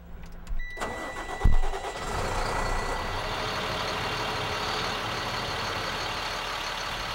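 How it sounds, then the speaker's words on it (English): A truck engine cranks and catches in a couple of sharp bursts, then settles into a steady, loud idle that runs on to the end, with a thin high tone above it, as a salt spreader is readied for calibration. "have Matt start the truck and turn the auger on at very slow"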